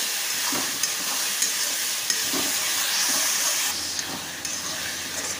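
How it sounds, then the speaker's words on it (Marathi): Tomato and spices roasting in oil in a pan for spicy Kolhapuri misal: a loud, steady sizzle with faint periodic clinks of a stirring spoon, no talking. "चांगलं भाजून घ्यायचं आता टोमॅटो"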